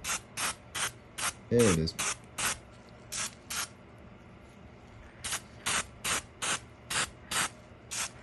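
Matte finish sprayed from an aerosol can through its nozzle onto a hand-whittled white wooden mouse, in a long run of short hissing bursts with a pause midway, and a brief voice in the middle.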